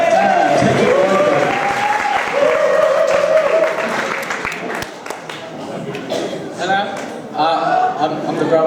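Wedding guests applauding a groomsman as he steps up to give a speech, a crowd clapping with some chuckles and voices mixed in, fading toward the end as someone begins talking.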